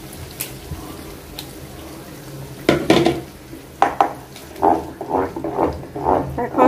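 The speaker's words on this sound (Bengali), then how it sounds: "এই তেলের আর মরিচের মধ্যে টমেটো পেস্টটা একটু ভালো করে মানে কয়েক মিনিটের মতো জাল দিয়ে নিতে হবে।" Tomato paste being cooked down in hot oil with chili for butter chicken, with utensils scraping and stirring the pan in short bursts over a low background hum.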